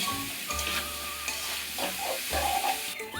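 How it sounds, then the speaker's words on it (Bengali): Unripe jackfruit pieces with salt and turmeric sizzle steadily in hot oil in a pan, with occasional scraping stirs, close and continuous. "এবার এঁচোরটিকে ভাজা হচ্ছে"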